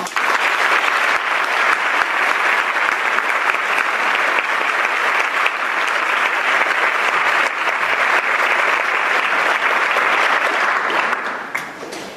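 Steady, dense applause from a lecture audience welcoming the speaker, sustained and fairly loud for about eleven seconds before tapering off at the end, with no speech over it.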